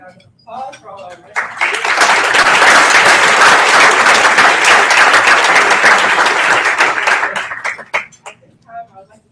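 Audience at a STEM awards ceremony in Research Triangle Park applauding in a strong, dense wave that rises after a speaker's voice, holds for several seconds, then fades back to talk.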